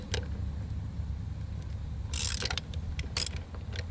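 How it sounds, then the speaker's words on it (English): Loosened lug nuts are spun off a front car wheel with a ratcheting tool while the car rests on jack stands, giving faint, quick clicking and scraping bursts over a low background hum, with no voices. "Now we're going to take the rest of the lug nuts off."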